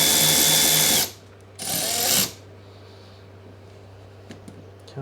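A power tool whirs loudly up close in two bursts, about a second each, backing out a 7mm-head bolt on a 2022 Chevy Bolt EUV during a trailer hitch install, followed by quiet background hum and faint clicks.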